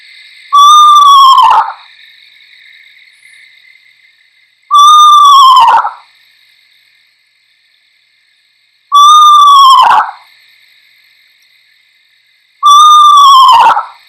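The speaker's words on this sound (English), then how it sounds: "It has kind of that haunting owl tonation at the same time as the whinny, which is a little bit of a descending whinny." An owl's descending whinny call sounds four times at even intervals, each a loud, clear whistled tone that quavers and drops in pitch, separated by near silence.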